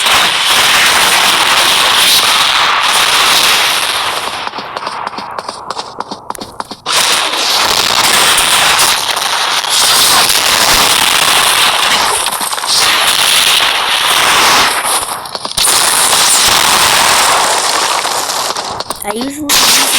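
Rapid bursts of explosions and crackling blasts from the Explosion Hero in the Hero Battlegrounds video game, loud and nearly continuous across the whole stretch, with brief dips between volleys.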